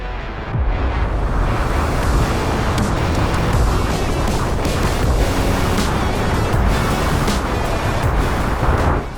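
A speed sailing boat tears across rough ocean waves, a loud continuous roar of spray and surf with heavy wind buffeting the microphone, sustained at full strength after a brief quieter opening.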